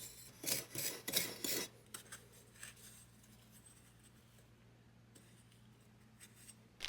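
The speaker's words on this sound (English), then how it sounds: "I cut a small slab off of it to serve as a lid, and then carved out a pocket to hold the crucible." A fire brick being carved out to form a crucible pocket, heard as a soft, close run of scraping rasps in quick strokes, followed by faint scratching over a low steady hum.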